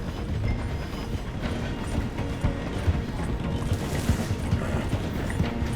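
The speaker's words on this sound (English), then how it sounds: "The train is slowing down to go through the station." A train in Red Dead Redemption 2 slows as it passes through a station, giving a dense, steady rumble with rhythmic clattering of wheels and carriages close by.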